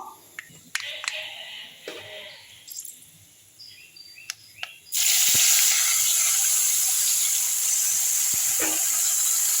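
A sudden loud sizzling hiss bursts in and holds steady as tamarind water is poured into a hot pan, after a few quieter clinks and taps.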